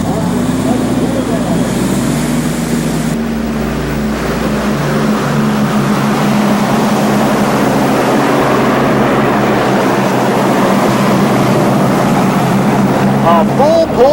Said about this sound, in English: Up front, 3 World War II V-12 Allison fighter plane engines.